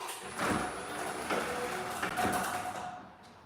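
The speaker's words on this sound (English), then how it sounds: "Let me open the door and show you" A door slides and rattles open with a few soft bumps and scrapes, fairly quiet and close.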